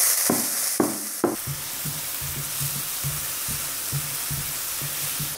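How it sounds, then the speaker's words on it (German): Onions sweat in clarified butter in a pan that still holds roasting residue, giving a steady hiss with a few sharp knocks at the start, then a regular series of soft scraping stirs. "Da werde ich meine Zwiebeln jetzt drin anschwitzen."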